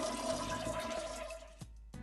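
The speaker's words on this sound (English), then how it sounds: "And flush the toilet to empty the tank." A household toilet is flushed to drain its tank after the supply valve is shut off, a loud, continuous rush of water that runs for about a second and a half, then gurgles and drops away, with no talking.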